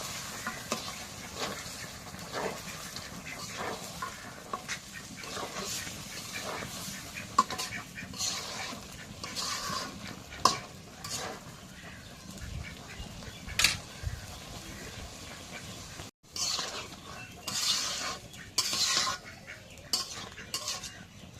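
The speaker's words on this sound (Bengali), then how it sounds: "এখন একটু নাড়িয়ে দিই।" A spoon scrapes and stirs curry of home-raised desi chicken in a pot, with soft clinks of metal and a faint simmering sizzle, fairly quiet and intermittent.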